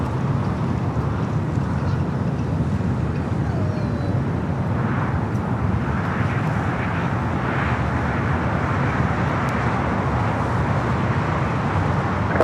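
An ITA Airways airliner rolling down the runway on its takeoff run at LAX, heard from a distance as a broad, steady engine roar that swells slightly with wind buffeting the microphone.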